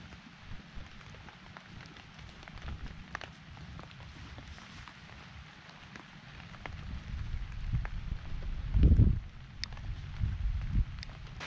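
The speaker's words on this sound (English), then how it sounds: "So the rain has finally decided to pour down hard" Heavy storm rain pours outdoors at an overnight forest camp in Cebu, Philippines, pattering on surfaces, growing heavier and louder toward the end with a few gusty surges.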